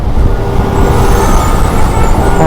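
Dense road traffic in Baner, Pune, heard from a motorcycle as a loud, continuous rumble of engines and wind noise with no breaks.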